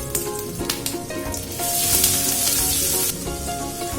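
Crushed ginger and garlic hit hot oil in a pan and sizzle loudly. The frying hiss swells midway and then eases, with light stirring scrapes, up close and with no voices.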